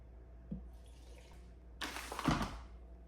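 Almond milk poured into a blender for a smoothie, a short liquid splash and gurgle lasting under a second after a faint earlier drip, fairly close over a low steady hum.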